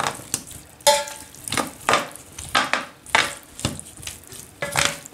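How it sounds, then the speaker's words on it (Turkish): A spoon stirs potato salad with spices in a bowl, giving a run of wet, scraping, clattering strokes in a steady rhythm, close and fairly loud. "şimdi bunları güzelce bir karıştırıyorum"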